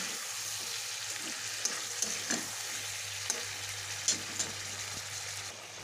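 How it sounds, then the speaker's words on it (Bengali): Payesh, Bengali rice pudding, simmering in a pot with steady soft bubbling and hiss, broken by a few light clinks of a spoon stirring against the pot. "এখানে পায়েসটা রান্না হচ্ছে, পায়েসটা হয়ে গেছে, সুন্দরভাবে গলে গেছে।"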